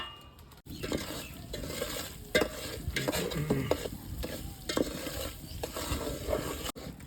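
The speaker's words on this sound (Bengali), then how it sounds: "আস্তে আস্তে করে এটাকে চিনিটাকে লাল করে নেবো পুড়িয়ে" Sugar stirred steadily in a hot pan as it caramelizes toward red, with repeated scraping strokes and a soft sizzle running through the whole stretch, close and fairly loud with no talking.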